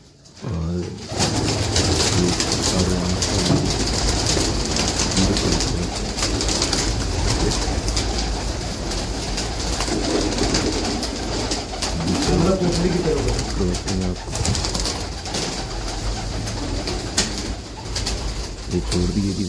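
Breeder pigeons and their chicks coo steadily and close by, with soft repeated throaty calls over a continuous background, while someone talks over them at times.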